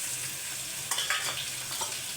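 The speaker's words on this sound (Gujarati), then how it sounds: "ગુવારના શાકનો વઘાર થઈ ગયો છે" Tempering for a cluster bean curry: onion, garlic and ginger paste frying in hot oil, a brief close crackling sizzle with a few sharper spits and stirring sounds, no voices.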